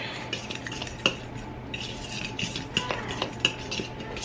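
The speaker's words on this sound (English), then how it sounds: "I'm just going to mix this all together" Batter ingredients, including a teaspoon of salt, being stirred together in a bowl with a utensil, giving soft scraping swishes and a few sharp clinks against the bowl, close and steady without talk.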